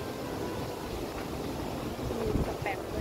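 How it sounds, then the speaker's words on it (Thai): Strong outdoor wind blows across the microphone in a steady, heavy rumble that builds slightly toward the end, at a seaside spot while crabbing. "ลมแรงมาก"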